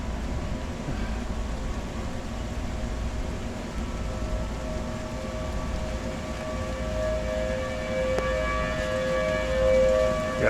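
A civil defense tornado siren wails steadily through a passing thunderstorm, a sustained rising and falling tone over a constant rumble of wind and rain, growing slightly louder toward the end.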